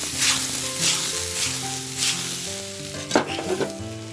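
Oysters fry in a pan with a steady close sizzle and occasional stirring scrapes. Soft tonal music plays underneath, and no one speaks.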